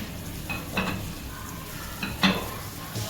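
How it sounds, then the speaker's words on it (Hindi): Onions sauté with chicken in a pan for garlic butter chicken over medium to high heat, a steady sizzle broken by repeated clattering strokes of stirring. "अब हम अनियन भी ऐड कर देते हैं और 1 मिनट तक के लिए हम इसमें से सौटे करते हैं"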